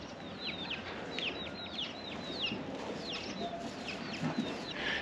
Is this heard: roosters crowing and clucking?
yes